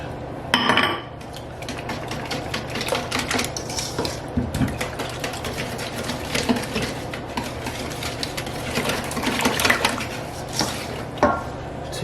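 A whisk is worked by hand in a bowl with melted butter for a chocolate pie filling, giving rapid, steady metallic clinking and scraping that runs throughout at close range.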